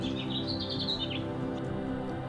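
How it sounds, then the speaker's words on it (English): Birds chirp and tweet outdoors in a quiet wooded residential area near Port Angeles, with a steady breezy wash of wind through trees beneath the calls. "most of what you hear are birds and wind through the trees"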